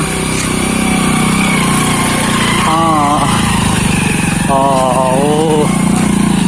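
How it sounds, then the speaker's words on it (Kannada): A vehicle engine strains uphill on a road during a bike trip to Shri Keshavanatha temple at Moodugallu, a loud, continuous labouring drone close by, with voices speaking over it. "ಇಲ್ಲೊಂದು ಗಾಡಿ ಬರ್ತುಂಟು ಭಾರಿ ಕಷ್ಟದಲ್ಲಿ"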